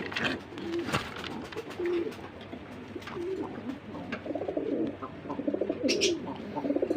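A pair of Rajshahi Giribaz pigeons coo steadily at close range, with low, throaty, rolling calls repeating in a soft rhythm over faint background noise.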